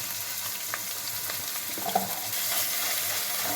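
Ginger garlic paste frying in a pan for a dry mutton curry, giving a steady, close, even sizzle that runs throughout and grows a little louder toward the end, with no voices.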